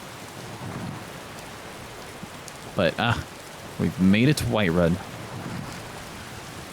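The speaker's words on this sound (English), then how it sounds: "right now, I want to get out of the rain" Steady rain hisses through the Skyrim game world (Wildlander mod) near Whiterun during a storm, a constant soft wash that runs beneath a man's speech.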